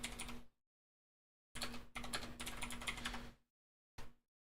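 Rapid clatter of keys on a computer keyboard, heard in three close bursts separated by short silences, with no voices.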